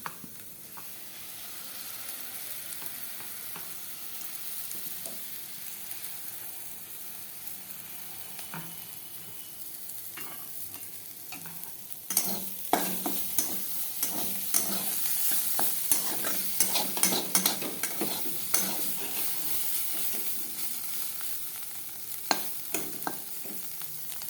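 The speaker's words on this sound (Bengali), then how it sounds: "লুচিগুলো সব ভাজা হবে" Luchi, puffed flatbread, frying in hot oil gives a continuous sizzle that grows louder and busier about halfway through, with scattered sharp crackles and stirring sounds close by.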